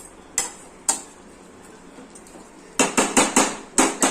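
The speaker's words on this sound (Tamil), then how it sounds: "நம்ம அதுக்குள்ள இந்த மசாலாவை அம்மியில அரைக்க போடுறோம்" Masala spices crushed on a stone ammi grinding stone. A couple of sharp knocks are followed by a quick run of five or six hard, close, rhythmic strikes of stone on stone.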